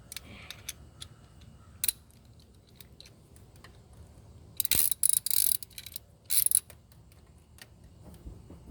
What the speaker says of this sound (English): tighten the bolt real quick